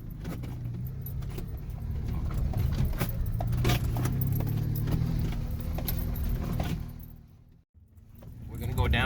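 Off-road vehicle rolling downhill in first gear on a wilderness track, a low steady engine drone with rattling, jangling bits over it while people talk, briefly dropping out before resuming.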